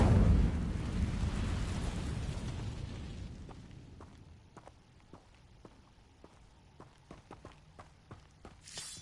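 Incendio fire spell cast in the video game Hogwarts Legacy: a loud whooshing, roaring burst that fades over several seconds, followed by quiet scattered footstep-like taps.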